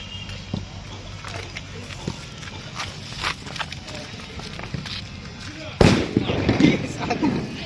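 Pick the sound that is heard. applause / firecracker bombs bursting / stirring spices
firecracker bombs bursting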